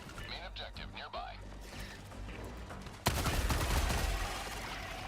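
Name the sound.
grenade explosion and gunfire in a video game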